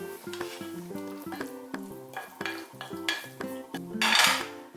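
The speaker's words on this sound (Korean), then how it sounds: "이렇게 잠시 볶다가 불을 바로 꺼주시면 애호박이 식감이 살아있게끔 볶아지니까요." Zucchini sizzles as it stir-fries in a pan with sesame seeds while a utensil repeatedly clinks and scrapes against the pan in an uneven rhythm, close and fairly quiet.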